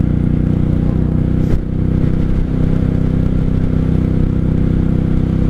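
A 1995 Honda Shadow VLX 600 motorcycle cruises in third gear, its engine a steady low rumble close by with wind noise and a brief clatter partway through.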